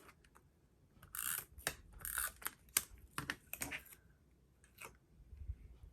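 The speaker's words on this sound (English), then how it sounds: "And then I cut out these glasses." Scissors snipping a paper cutout of glasses for a detective-themed art journal page, with quiet bursts of cutting and rustling paper in short irregular runs, close and fairly soft.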